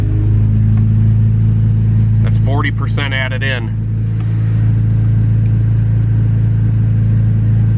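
A K24-engined Acura Integra on a dyno idles steadily with a deep, constant low hum throughout, while someone speaks briefly over it in the middle.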